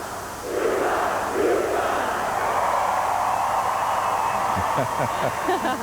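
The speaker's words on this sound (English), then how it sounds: "We got to do a cheer with the mascot." A crowd at a UConn homecoming event yells and chants together with the mascot in a loud, sustained roar, with rhythmic shouted bursts near the end.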